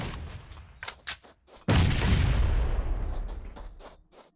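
Grenade explosions in PUBG Mobile during a competitive custom-room scrim: a few sharp, scattered pops, then one loud blast that lands suddenly and rolls off in a long, rumbling decay.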